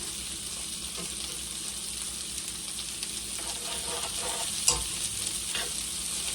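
Potatoes, smoked sausage and onion fry in lard with a steady, even sizzle. A few soft stirring scrapes and one sharp clink sound close by. No one talks.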